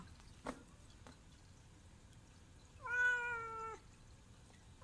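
A pet cat gives a single clear meow, slightly drawn out, at close range in a quiet indoor room, with a faint click or tap heard earlier.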